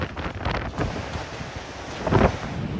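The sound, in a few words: strong wind of Super Typhoon Nando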